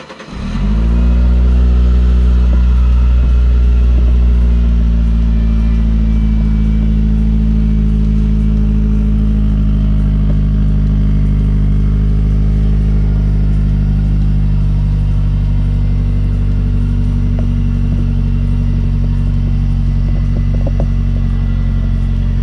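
A three-wheeled vehicle's engine cranks and catches, then settles into a loud, steady idle with a deep, even rumble that runs on without pause.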